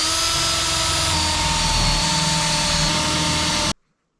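A drill bores holes for ukulele tuning pegs in a home garage woodshop, giving a loud, continuous whine that holds steady and then cuts off abruptly into silence.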